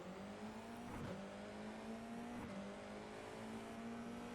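F4 race cars launching at the start of an iRacing race at Road Atlanta, engines wailing with rising gear-change pitch sweeps, loud and continuous with no talk over it.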